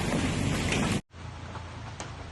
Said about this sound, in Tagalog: At malakas ang ulan, nakikita natin.